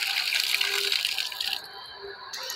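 Water from a newly drilled 70-foot deep well driven by a 1 hp shallow-well pump gushes and splashes steadily and close by, with a bright, hissing, rattling spray that briefly thins partway through.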